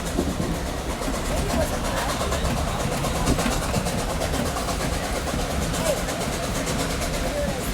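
Nickel Plate Road 765 steam locomotive working hard on a valley excursion, a loud continuous rumbling roar with rail clatter that stays steady throughout, with talk faintly mixed in.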